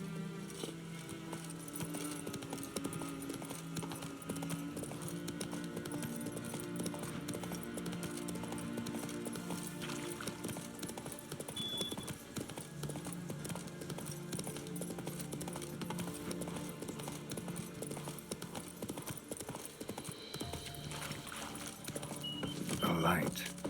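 In The Witcher 3, the horse Roach gallops with steady hoofbeats and jangling tack under continuous game ambience and music. Speech-like voices are present, and the sound swells briefly near the end.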